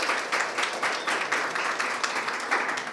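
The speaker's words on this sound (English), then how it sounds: "let's give them a hand of applause because they did such an amazing job putting this together" Audience applause for chapter board members at a conference session: steady, dense clapping from a crowd, continuous through the moment at an even level, with no talking over it.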